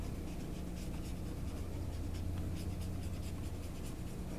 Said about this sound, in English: You can hear my brush almost kind of scrubbing it in there.